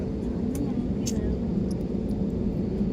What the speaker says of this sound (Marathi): तर बघा आता आमचं विमान चालू आहे आता इथून स्लो स्लो चालू आहे टेक ऑफ केलेलं बघा कसं होतं